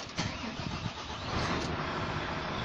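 A Volvo truck engine cranks and fires up, a steady loud diesel roar that settles into a rumbling idle.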